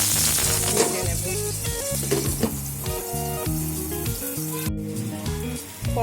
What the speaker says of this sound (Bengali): আঁচটা কম করে চাপা দিয়ে দিয়ে ভেজে নেব।